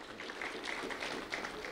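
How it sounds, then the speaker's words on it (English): A crowd claps for two students receiving an award at a school event. The applause is a dense, steady patter that stays even through its brief run. "Round of applause for Marlon and Melanie"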